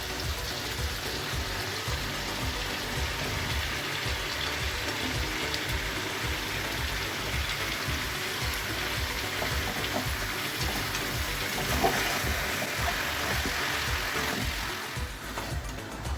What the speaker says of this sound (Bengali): এইরকমভাবেই আলু বেগুনের সাথে কিন্তু আমি তেলটাকে ফ্রাই করে নিচ্ছি।